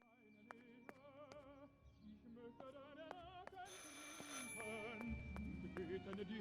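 A telephone rings repeatedly in the video game Martha Is Dead, a string of bright electronic bell chimes over a low background, building into a denser swelling musical texture toward the end.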